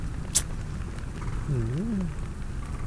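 Steady rain falling outdoors while filming, a constant hiss close by with a sharp tick early on, and a person speaking briefly over it.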